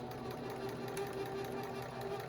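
A sewing machine hums steadily while stitching a pillow toward its corner, a continuous motor whir with a fast, even needle pulse, moderately close and unbroken throughout.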